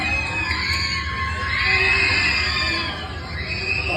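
A crowd shouts and screams loudly beside a blindfolded woman, a dense continuous roar of voices that swells and dips throughout.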